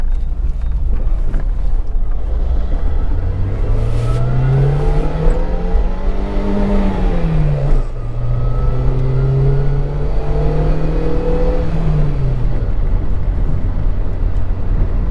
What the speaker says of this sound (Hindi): इंजन बहुत ज़्यादा साउंड कर देता है